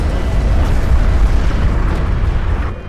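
Dense barrage explosions in a video game match, a continuous loud rumbling roar of overlapping booms lasting the whole moment with no talk.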